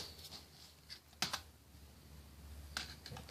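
Replacement keyboard being pressed and snapped into a Toshiba C850 laptop, a few sharp plastic clicks in two brief clusters against a quiet room, with no one talking.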